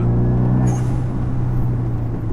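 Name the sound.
Renault Megane 2 RS R26R dump valve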